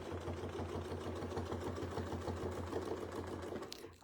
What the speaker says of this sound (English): We're gonna sew around.